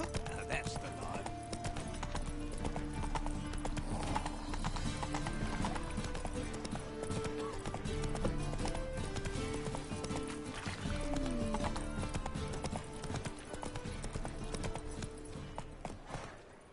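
Roach, the horse from The Witcher 3, trots with steady, continuous clip-clopping hooves close by, a brief whinny in the mix, while voices talk over the game sounds and music.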